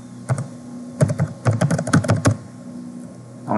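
A password is typed on a computer keyboard in quick bursts of crisp, close key clicks, with a short pause between the first keys and a denser run of taps before it goes quiet.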